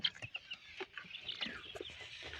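Silkie chicks peep and cheep in a quick run of soft, high chirps, close and faint, with no talking.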